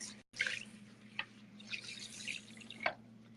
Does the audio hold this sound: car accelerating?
no